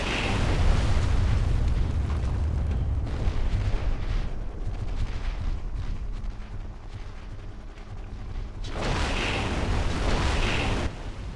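Sustained rumbling blasts and crackling debris from an object being destroyed in the mech combat game MechAssault, loud and continuous, with a brief lull before a renewed burst of explosions near the end.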